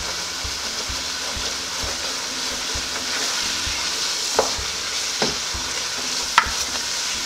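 Egusi frying in a pot with steady sizzling and a stirring spoon scraping at regular intervals, a few sharper clinks near the end, close and continuous.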